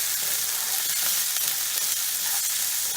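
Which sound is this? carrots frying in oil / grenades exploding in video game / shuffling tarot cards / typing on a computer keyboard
carrots frying in oil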